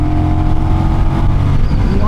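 A Honda Rebel 1100 DCT automatic motorcycle accelerates with a rising, rumbling engine note heard close up, mixed with rushing wind noise over about two seconds.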